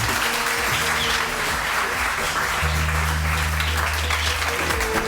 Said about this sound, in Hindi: और अगर आप लोगों को ये लगता है मैं बहुत अच्छा लग रहा हूं तो भी तालियां बजेंगी.